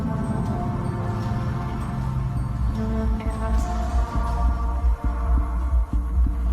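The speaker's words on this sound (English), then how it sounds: "A new sound enters into the mix, like a heart pounding." A deep, steady pounding like a heartbeat throbs low beneath a constant hum and dense background noise.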